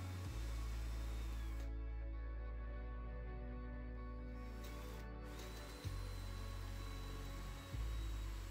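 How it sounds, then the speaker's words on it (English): A power drill with a 5 mm bit whirs steadily up close, drilling holes in 4.5 mm thick Bendybull, its motor holding a constant pitch with a couple of brief changes as it bites in. "so I've drilled out a few holes there"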